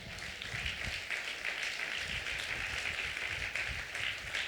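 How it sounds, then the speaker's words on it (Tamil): A church congregation claps steadily together during a Thanksgiving Sunday service in Thoothukudi, a dense, fairly distant wash of applause with no pauses. "ஒரு நல்ல கைதட்டுங்களேன்"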